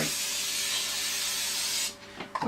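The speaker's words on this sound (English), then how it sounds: "the first thing we do is give a good spray with the non-stick" Non-stick cooking spray hisses in one continuous burst for about two seconds into a bread pot, close and clear, followed by a few light clicks and handling sounds.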